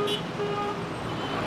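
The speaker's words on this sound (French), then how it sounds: "Coups de klaxon violents" A short car horn toots at the start over continuous road traffic noise, with a steady roadway hum running throughout.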